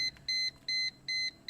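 A car chimes as the key is turned to position 1, a repeating electronic beep in even pulses, four to five tones in quick succession, clear and fairly close with no talk.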